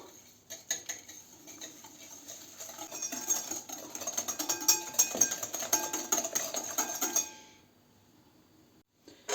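Rapid clinking of a whisk against a bowl, beating ingredients for cheese doughnut batter, a fast steady rhythm that builds and then stops abruptly, with a brief tap at the end.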